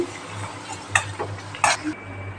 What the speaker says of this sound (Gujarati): આ રીતના આપણે બધી ફ્રાય કરી લઈશું।